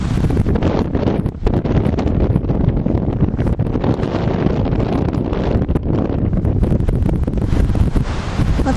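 Strong gusting wind buffets the microphone during an E-flite Carbon Yak 54 RC plane flight, a loud continuous roar with rough fluctuating bursts and no voices.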